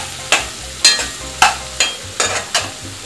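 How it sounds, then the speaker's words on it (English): Vienna sausages sautéing in a pan over lowered heat, with a low steady sizzle broken by six sharp scraping stirs spaced roughly half a second apart, close and fairly loud. "now we're gonna saute the sausages."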